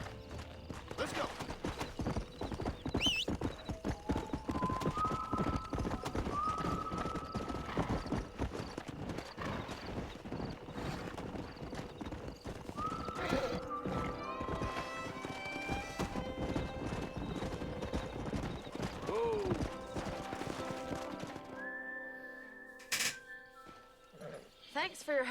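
Horse hooves clip-clop steadily in Red Dead Redemption on Xbox 360, with repeated whinnies and neighs cutting through, all under a busy game soundscape and some voices.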